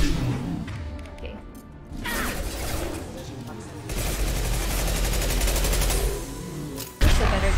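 Rapid gunfire from a rifle in Mass Effect 2, dense bursts of shots and impacts filling most of the stretch, fairly loud, with a sharp final crack near the end.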